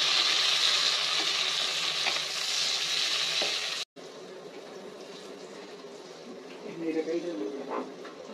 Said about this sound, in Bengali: পেঁয়াজ দিয়ে আগে গরম কুকিং অয়েলে দিয়ে হলো।